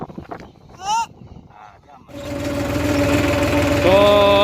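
A GPS auto-steer tractor works a field on a Gujarat farm, its engine droning steadily and fairly loud with a tonal hum, after a few seconds of quieter talk and other sounds.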